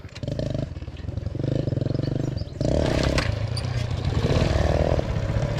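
A Delta 50cc moped engine runs close by during a ride, its putter rising and falling in pulsing throttle surges, with a louder stretch midway.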